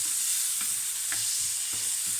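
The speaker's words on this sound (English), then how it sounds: "we're just going to let those fry off a little bit" Onions frying in a pan, with a steady bright sizzle and a few soft stirring scrapes at regular intervals, close and moderately loud, no voices.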